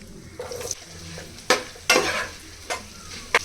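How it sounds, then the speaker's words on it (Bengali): Cauliflower fries in hot oil beside pushed-aside eggs for vegetable egg noodles. A close, steady sizzle is broken by several scraping stirs of a spatula. "1 মিনিটের মতো ফুলকপিগুলো ভেজে নিব।"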